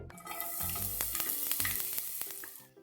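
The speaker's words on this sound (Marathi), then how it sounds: "तेल थोडंसं तापलं त्याच्यामध्ये की आपण दोन चमचा लसूण बारीक चिरलेला" Finely minced garlic fries in hot oil in a pan, giving a loud, continuous sizzle with crackling pops and some stirring scrapes. It fades slightly at the end, with no talking.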